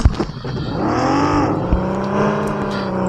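A summoned car's engine in a battle-royale video game revs up and holds a loud, steady whine with shifting pitch, close by, after a few short clunks at the start.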